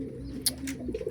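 Pigeons in a cage give soft, low cooing calls close by, with a few brief higher chirps and small rustles in between.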